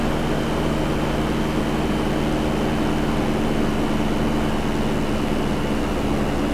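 Steady, loud drone of a propeller aircraft engine in Microsoft Flight Simulator, a constant hum with strong low tones that holds unchanged throughout, with no talking.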